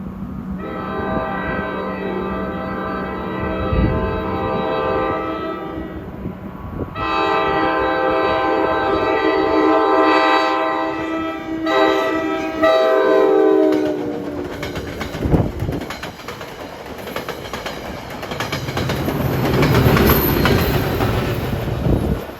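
A passenger train from Port Jervis to Hoboken, trailed by an F40PH-3C locomotive, sounds a long loud horn and rumbles past with clattering wheels, the noise swelling near and then fading into rolling railcar hiss.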